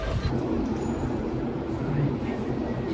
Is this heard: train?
yes